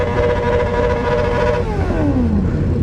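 A Yamaha R1 sport bike engine revs hard, a loud high-pitched whine that holds and then drops away in pitch as the throttle closes, with a rough mechanical roar beneath.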